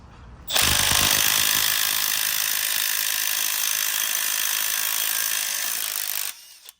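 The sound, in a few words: larger-anvil impact wrench removing bolts on a Ford 3.0 timing cover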